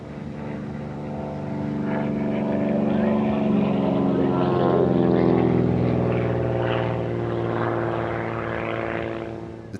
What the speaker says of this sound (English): the Beechcraft T-34 Mentor is a single-engine training aircraft